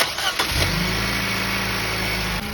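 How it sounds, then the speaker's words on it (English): A 2015 Nissan Juke SL starts right after a spark plug and ignition coil tune-up: a quick cranking burst catches within half a second and settles into a steady, close, even idle that holds to the end. "All right, so it starts up great, sounds great, runs great."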